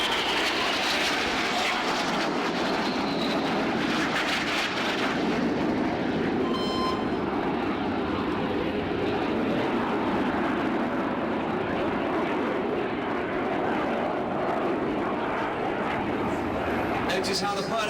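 Red Arrows jet aircraft performing the vertical break at an air display, a broad continuous roar filling the whole stretch, steady and loud with crowd sound and a voice over it.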